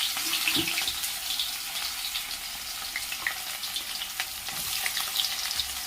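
Onions and fenugreek seeds fry in hot oil, producing a bright, dense sizzle with small crackling pops and occasional stirring, steady and close with no talking.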